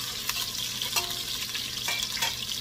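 Onions frying in a pan for chicken curry give off a steady, close sizzle, with a few soft clinks from stirring.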